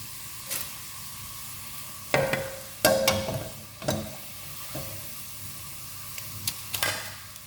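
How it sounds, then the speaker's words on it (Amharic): Carrots frying in oil in a pan for chicken Bukhari rice, a soft steady sizzle broken by several louder stirring scrapes and clatters, close and without talk. "ካሮቱን በዘይቱ ጠብሰዋለሁ ማለት ነው።"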